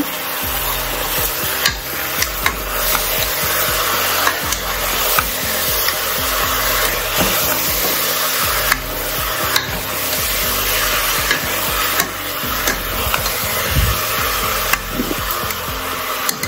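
A spoon stirs and scrapes chicken curry with rock salt in a metal pot, making a steady, loud, close grinding hiss that runs the whole time. Scattered clinks stand out from the continuous scraping, and there is no talk.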